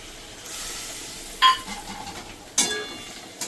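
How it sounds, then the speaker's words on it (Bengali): Hot water goes into spices frying in a pan, giving a steady low sizzle broken by two sharp bursts of hiss and clatter, close by and with no talk. "এবার এটাতে আর একটু জল দেবো আমি"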